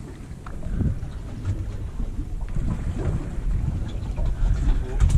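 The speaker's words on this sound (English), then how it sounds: "I'm just gonna kill that engine." An idling fishing boat engine gives a steady low rumble under wind buffeting and lapping water at sea.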